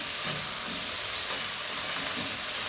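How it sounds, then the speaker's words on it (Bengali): Taro stalks sizzle in a pan as they fry for a chorchori, a continuous, close hiss with faint stirring scrapes. "এবার ভালোভাবে ভাজা ভাজা করতে দেবো।"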